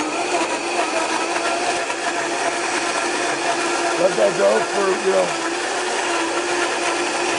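Countertop blender whirring steadily as it purees basil with corn syrup for a cocktail syrup, a loud continuous motor drone throughout, with a person speaking over it briefly.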